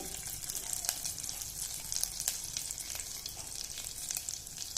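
Fenugreek seeds, cumin and lentils sizzle in hot oil in a pan, a close, steady crackling fry with small pops throughout.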